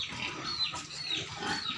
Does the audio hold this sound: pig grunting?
yes